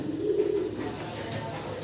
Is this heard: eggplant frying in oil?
no